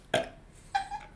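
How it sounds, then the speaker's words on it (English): A person burps twice, a short loud belch followed after a pause by a longer, drawn-out one, close and clear in a quiet room with no talking. "you burp a lot, don't you?"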